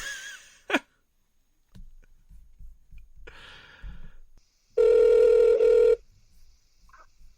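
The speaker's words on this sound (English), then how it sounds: "this is obviously the phone telling us we got to get off" A telephone rings loudly in one sustained burst of about a second, alone after scattered quiet sounds and a sharp breath.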